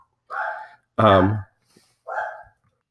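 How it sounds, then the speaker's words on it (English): A dog barks three times in the background, each bark a short, muffled burst spaced about a second apart. "You hear my dog in the background barking probably."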